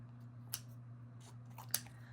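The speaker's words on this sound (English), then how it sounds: "I've got my scissors here. I'm just going to cut this away" Two short, crisp scissor snips through a book page, spaced about a second apart, close and fairly quiet over a steady low electrical hum, with no talking.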